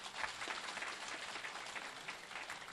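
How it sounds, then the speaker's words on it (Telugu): A crowd at a spiritual talk breaks into faint, distant applause, a thin, even patter of clapping that goes on for a few seconds without any speech over it. "దీనికి చప్పట్లు కొట్టాలి మీరు"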